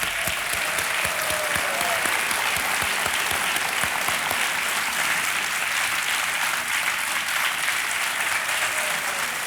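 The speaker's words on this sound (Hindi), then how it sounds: "तालियां बजती रहे इनके लिए।" Sustained applause from a large TV quiz show studio audience, dense and steady throughout, loud and close with no pauses.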